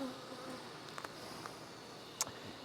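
Honey bees buzz softly and continuously nearby at an open hive, a low hum with occasional brief louder passes, with no talking.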